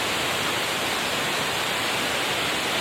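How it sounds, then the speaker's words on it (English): Ashgill Force waterfall roars as a dense, constant rush of falling water, steady and fairly loud throughout, with no voices over it. "There it is, Ashgill Force. It's absolutely beautiful waterfall."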